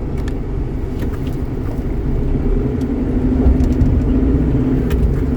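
A car drives along a two-way road in Laos, its steady engine and tyre rumble loud and close throughout, with no talk.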